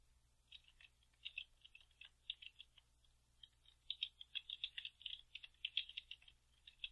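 Clicky keys on a computer keyboard are typed in quick irregular bursts, close and fairly quiet, growing denser and faster toward the end, with no voices.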